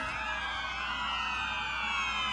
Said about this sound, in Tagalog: Sabay sa tunog ng mga sirena ng tandang patrolor at ambulan.